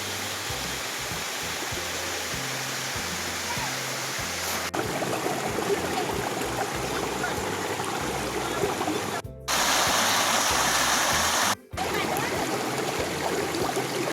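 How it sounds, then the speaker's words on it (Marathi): A waterfall near Kondhana Caves in Karjat in the Western Ghats gives a steady, dense roar of falling water that fills the whole stretch, loud and close, with two brief dropouts. "आपल्याला ना एक छान असा धबधब धबधबा भेटलाय"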